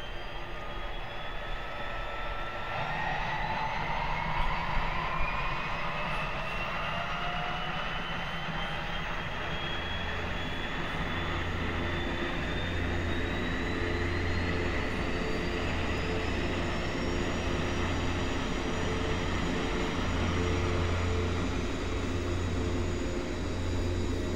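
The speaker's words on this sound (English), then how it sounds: "we'll start the right side engine" The right turboprop engine of a simulated Twin Otter starts up in X-Plane 11, a steady whining hum with tones that slowly climb in pitch as it spools over a constant low drone.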